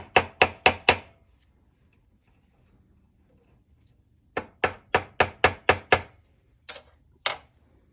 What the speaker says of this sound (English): So let me peen this together. Both sides.